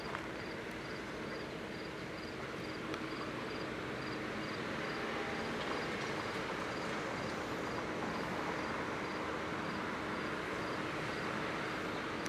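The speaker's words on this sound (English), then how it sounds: "Here is my first train of the day into Tehachapi." A train rolls into Tehachapi with a steady, loud rumble and a constant wash of noise. There is no talk.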